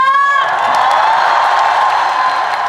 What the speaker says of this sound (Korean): 이곳의 열기가 얼마나 대단한지 함성 소리 한번 들려주시겠습니까?